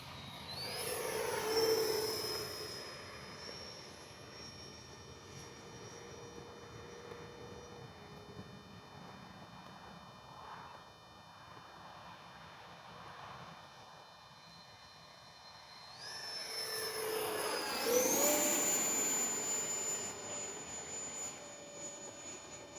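An E-flite 70mm Viper V2 RC electric ducted-fan jet whines past, its pitch sweeping as it flies by, fading to a distant hum mid-pass, then roaring close again.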